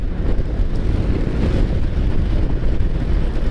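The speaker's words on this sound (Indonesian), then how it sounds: "anginnya juga makin kencang guys" Strong wind buffets the microphone during a heavy rainstorm, a loud, continuous low roar and rumble with a steady rushing texture and no voices.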